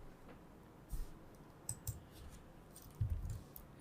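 A computer mouse clicks during a malware analysis walkthrough, giving a few sparse, light, close clicks in small bursts over faint room noise, with no talk.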